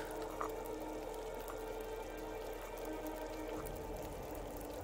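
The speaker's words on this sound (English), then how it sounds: "it sounds cool while you're sleeping to have teas bubbling in the background" Tea bubbling as it heats in the survival video game The Long Dark, a steady, continuous simmering wash that holds evenly throughout with no talking.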